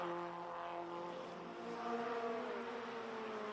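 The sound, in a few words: F1600 race cars racing at Mont Tremblant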